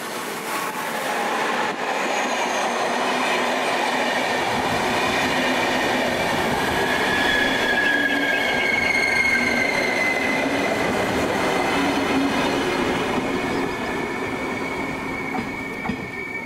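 An extra long passenger train rolls steadily past at Tokaj station, a continuous loud rumble of wheels on rail with metallic squealing tones and faint clickety-clack running throughout, no voices.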